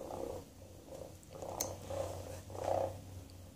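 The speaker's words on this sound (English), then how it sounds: "And again, more purring." Hasbro Joy For All robotic companion cat purring softly, a faint, close, low, rhythmic purr that swells in pulses, with a few small mechanical clicks and no talking.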